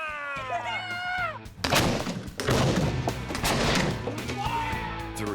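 A homemade leather cannon fires a shot, a sudden loud boom followed by a rumbling, crackling blast that fades slowly. Excited voices are heard before and after the shot.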